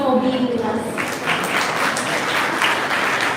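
An audience at the inauguration of the 17th All India Moot Court Competition breaks into sustained applause, with a voice briefly audible at the start before clapping fills the room.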